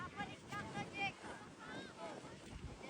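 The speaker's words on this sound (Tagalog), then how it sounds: "Grabe, napakalakas ng hangin" Powerful wind gusts rush past outdoors during kite flying with a large guryon kite in very strong wind, a steady blustery roar that swells and fades, with people talking over it.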